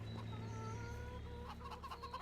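Chickens clucking in a farming video game, several hens in a coop giving soft overlapping clucks over a steady low hum, with a few brighter calls toward the end.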